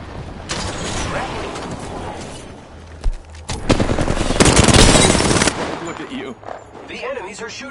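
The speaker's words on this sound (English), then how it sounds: "Are shooting at me." Apex Legends firefight with repeated bursts of automatic gunfire, some distant and some close and loud, the heaviest stretch a sustained rattle of shots mid-clip, mixed with mechanical clatter and occasional voices.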